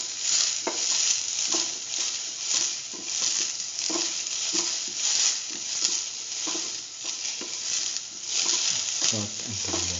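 Onions sauté and sizzle steadily in a pan for vegetarian soy chunk noodles, a continuous bright frying hiss with occasional stirring scrapes and utensil taps throughout.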